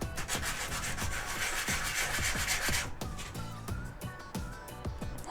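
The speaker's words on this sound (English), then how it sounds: "take a piece of sandpaper and we'll" Sandpaper rubs back and forth to flatten a damaged Archer soldering iron that was run over by a car, producing steady rhythmic rasping strokes, close and loud, continuing without talk.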